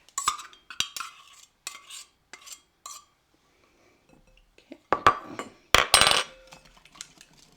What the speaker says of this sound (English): Now I'm trying to mix all the wet ingredients first